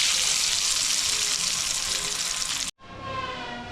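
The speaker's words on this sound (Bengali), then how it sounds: "মাংস অলরেডি আমি কষানো শুরু করে দিয়েছি" Meat being sautéed in a pan with ginger paste and fried potatoes, a loud, steady sizzle that cuts out abruptly for a moment and then resumes more faintly.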